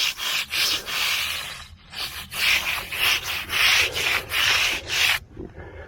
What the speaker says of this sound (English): So really rub that out good.